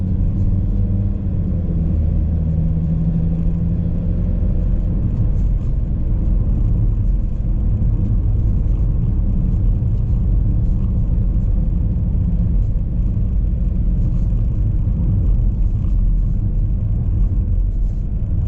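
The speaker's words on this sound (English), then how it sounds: "I've got a 4x4 now, driving this XC90" Volvo XC90 4x4 driving along a road, a steady low rumble of engine and tyre noise held evenly throughout, close and continuous with no talk.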